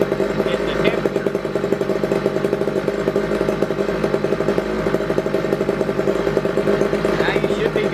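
A small two-stroke string trimmer engine idles steadily and loudly up close, a buzzy even rattle running for several seconds without letup.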